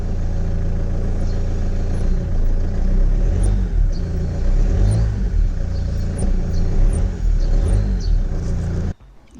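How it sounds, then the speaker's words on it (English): A 1998 Opel Vectra B sedan's 2.0 DTI diesel engine idles loudly up close, a few short light revs rising and falling over the steady rumble before cutting off abruptly near the end. "the engine's been running for a little bit, so a couple tiny revs."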